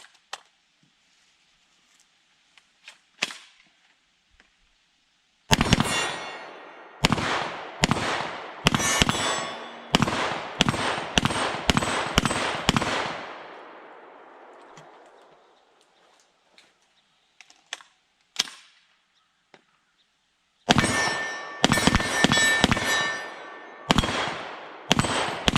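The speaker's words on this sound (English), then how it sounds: "Let's do some shooting with the Foxtrot Mike." A Foxtrot Mike FMP-9 9mm pistol-caliber carbine fires outdoors at targets about 15 yards away. Two long strings of sharp, loud, rapid cracks are split by a quiet pause, and a few isolated shots come before them.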